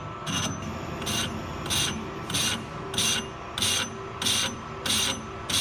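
Lathe cutting an out-of-round cast weight plate being turned into a flywheel, a steady grinding scrape with a regular pulsing rasp about twice per second as the interrupted cut comes around, close and continuous.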